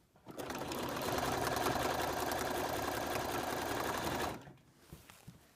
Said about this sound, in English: I'm using a zigzag stitch with invisible thread on top